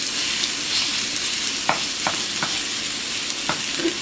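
Italian sausage fries in an oiled skillet with a steady broadband sizzle, punctuated by several soft scraping clicks as the meat is stirred, close up with no voices.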